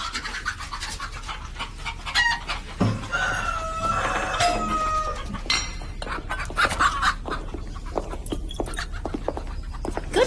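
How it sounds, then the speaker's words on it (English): Hens and cockerels in a rural English village setting cluck and crow intermittently, with a clear crow in the middle, the birds moderately near over steady outdoor background. "Can't say I care for hens. Mostly cockerels, they be."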